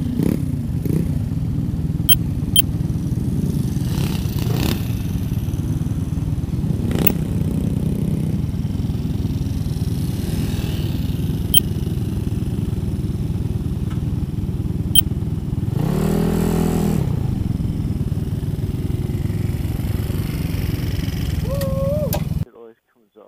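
A GY6-engined Honda Ruckus scooter rides through the Smoky Mountains in Tennessee, its steady mid-pitched engine drone running continuously under wind, with a brief swell near the end before it cuts off.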